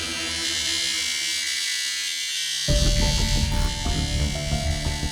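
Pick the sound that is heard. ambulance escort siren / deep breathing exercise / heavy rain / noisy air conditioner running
noisy air conditioner running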